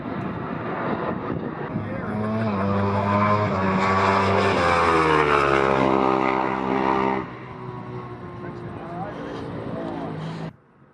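A Ducati World Superbike racing machine roars loudly past on a race track, its engine note rising and sweeping before dropping away, with a quieter fading tail.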